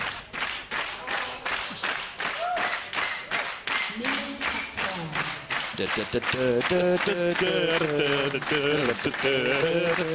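An esports arena crowd at a League of Legends EU LCS match claps in a steady, loud rhythm that builds into dense cheering and shouting, with tonal noise layered over the clapping toward the end.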